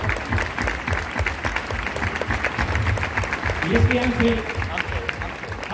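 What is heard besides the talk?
audience applause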